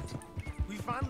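A horse's hooves clip-clop in a quick, steady rhythm in Red Dead Redemption 2, close and moderately loud, under a man's speech.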